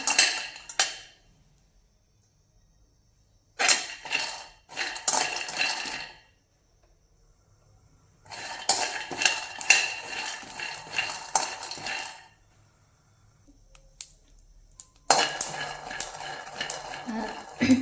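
Peanuts roasted over a low flame rattle and scrape against the pan in several loud, close bursts of stirring, with quiet gaps between them.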